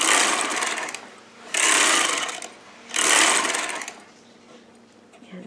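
A Sister Toy KM knitting machine rasps through latched ribbing in three long sweeping passes with pauses between, the carriage noise loud and near.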